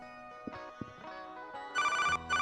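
A telephone rings in an Unreal Engine game level, a clear electronic ringtone repeating in short bursts, near and fairly loud with no talk over it.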